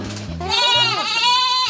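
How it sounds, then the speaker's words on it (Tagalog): Goats bleat loudly and close by, a wavering, nasal cry that rises and trembles, with a lower bleat overlapping at the start. "Mga kapuso, tignan nyo, napaka-cute ng mga kambing."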